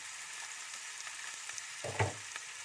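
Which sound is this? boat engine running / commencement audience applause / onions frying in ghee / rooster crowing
onions frying in ghee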